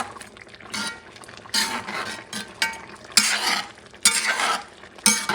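A spoon scrapes and stirs through a pot of Persian chicken stew with cinnamon, intermittent bursts of clattering and wet mixing separated by quieter pauses, close and alone.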